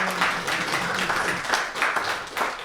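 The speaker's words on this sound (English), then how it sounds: "So I just want to give ourselves a round of applause to start off this night." An audience at a poetry slam at Fitzroy Library in Melbourne applauds steadily for nearly three seconds, a dense crowd-wide clapping with no speech over it.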